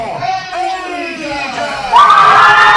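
Wrestling crowd at a CCW show roars and cheers continuously, a dense, loud wash of many voices that swells higher near the end, with shouting and a commentator-style voice mixed in.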